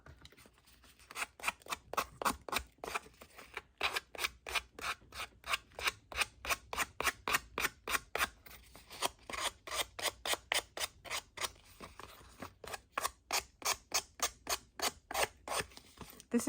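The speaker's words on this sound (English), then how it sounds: "And my sanding block." A sanding block scrapes back and forth against the edges of paper collage envelopes in quick, regular rasping strokes, close and steady with no talking.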